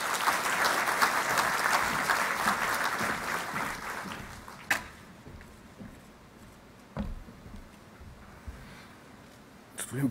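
A political party rally crowd applauds the deputy prime minister, Tomislav Donchev, a full dense ovation that fades out midway, leaving a quiet hall with scattered footsteps and thumps.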